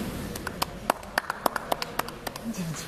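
About a dozen sharp handclaps in a quick, fairly even rhythm, close and distinct, then a voice briefly near the end.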